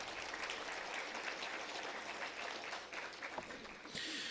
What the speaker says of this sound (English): Quick round of applause for the Newark Valley Cardinals.